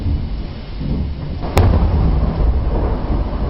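A deep rolling rumble of thunder with a sharp crack partway through, loud and continuous, with no other sounds.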